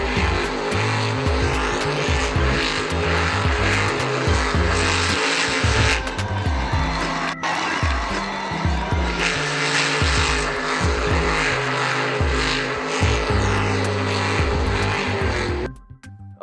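A Megalodon monster truck roars through a jump over parked cars, its engine loud and close with revving surges, a sharp crash midway and the noise cutting off abruptly at the end.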